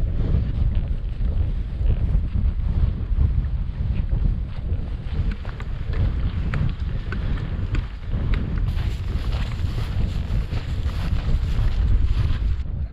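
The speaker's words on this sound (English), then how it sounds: "with this wind I'll have to find somewhere fairly sheltered because it is fairly whipping through here" Strong wind buffets the microphone on an open hill in Scotland's Ettrick Valley, a steady roaring rush that continues for the whole stretch with no pauses.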